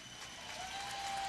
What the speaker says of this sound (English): gets up to the applause of the crowd